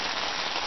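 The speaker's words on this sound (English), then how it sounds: "The rain's absolutely lashing it down now." Heavy rain lashing down outdoors on a windy riverbank during a fishing trip, a dense, loud, unbroken hiss with no voices over it.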